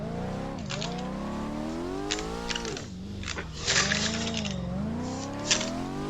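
A car drifting on the Sekia Hills course in a racing video game, its engine droning and swooping up and down in pitch without pause, with brief bright tyre-squeal bursts over the steady loud roar.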